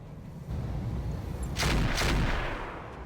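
Marauder mech firing weapons at a Jaeger mech in the RogueTech battle game: two broad, loud bursts of blasts over a low rumbling background, the second longer and heavier.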